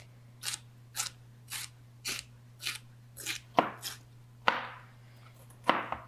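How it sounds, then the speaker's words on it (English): A knife chops through bell pepper on a cutting board, about a dozen crisp, evenly spaced strikes at close range, with a steady low hum behind and no talking. "And then you just chop it up."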